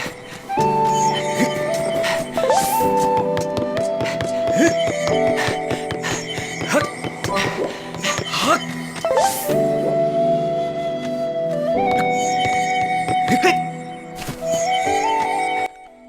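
A character's theme from the video game The Legend of Zelda: Skyward Sword, a somber, sweet melody of sustained tones in repeating phrases, played at moderate level with no talking.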